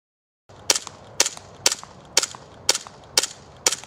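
WE PX4 gas blowback airsoft pistol fired seven times in a steady rhythm after a short silence, each shot a sharp close crack with a brief mechanical clack.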